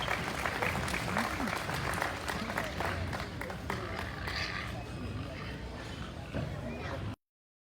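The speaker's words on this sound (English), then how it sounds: "Let's give all of these first place exhibitors a big round of applause" Applause for first place exhibitors at a junior pedigreed gilt show at the Arizona National livestock event, steady crowd clapping under continuous announcer talk and arena echo, ending abruptly.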